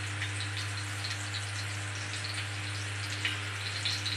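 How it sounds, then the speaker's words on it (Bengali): Tundri (ivy gourd) fries in a pan with a soft, steady sizzle and crackle over a low constant hum, faint and unbroken, no voices. "টুন্ডি ভাজাটা আধা হয়ে গেছে, এই দেখেন"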